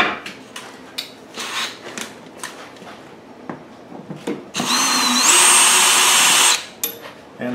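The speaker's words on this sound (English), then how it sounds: "The fuel selector knob comes off with a Phillips head screwdriver." A Phillips screwdriver removes the fuel selector knob screw on a Powerhorse 7500i generator: light clicks and taps, then a loud, steady power-driver whir lasting about two seconds before stopping.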